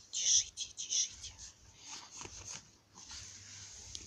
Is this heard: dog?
yes